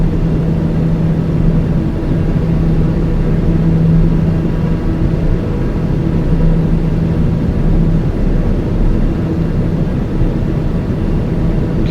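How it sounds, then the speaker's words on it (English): A steady, loud propeller-aircraft engine drone plays from a flight simulator during turns, with a faint tonal hum running through it. "we're just out here doing some turns, trying to learn to fly the aircraft again"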